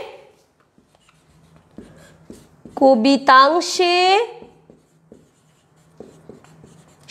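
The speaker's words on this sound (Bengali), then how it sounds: "তাহলে প্রথমে এই বাক্যটুকু লিখে ফেলি" A sentence is handwritten during a Bengali lesson, with soft scratchy pen strokes and taps before and after a short stretch of speech in the middle.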